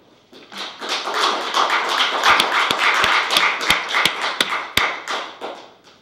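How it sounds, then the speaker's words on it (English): Several people clap together in a school board meeting room, a steady patter of hands lasting several seconds with a few sharper, louder claps standing out before it fades. "I've got to clap"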